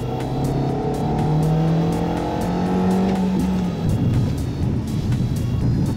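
A Volkswagen car brakes hard and swerves around a red cone on a test course, tires squealing loudly with long pitched squeals over engine and road noise that fade into rough tire roar.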